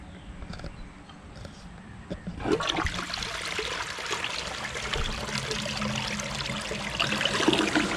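A toilet flushes, with water trickling quietly at first before a loud rushing surge kicks in and keeps swirling and gurgling close by for several seconds.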